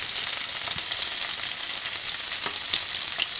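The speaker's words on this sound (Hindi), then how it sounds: "तो हाई फ्लेम पर हम इन्हें भून लेंगे 30 से 40 सेकंड के लिए" Capsicum and mixed vegetables stir-fried over a high flame, giving a steady, loud, close hiss and sizzle throughout with a few faint scrapes of stirring.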